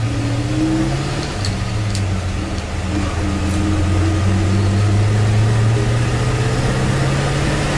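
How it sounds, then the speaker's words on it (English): An old tow truck's engine runs with a steady, close, loud rumbling drone that holds even throughout, with no talking over it. "Oh, Mater's much happier now. He actually runs."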